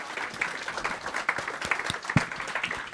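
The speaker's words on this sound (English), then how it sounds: "give a round of applause to all the speakers" Applause from a conference audience for the Lang.NET 2008 speakers, a brief burst of moderate, fairly quiet clapping from a modest crowd.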